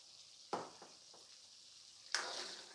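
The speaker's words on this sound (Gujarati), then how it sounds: "મસાલા પણ તેલમાં સંતળાઈ ગયા છે ફ્રેન્ડ્સ." Spices such as turmeric, coriander-cumin and garam masala sauté in hot oil for undhiyu, giving a quiet sizzle with a few sharp scraping stirs, the last one louder and followed by a brighter hiss.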